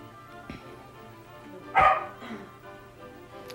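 Puppies at feeding time give a few short barks and yips, one louder sharp bark standing out in the middle, close by against a quiet background hum.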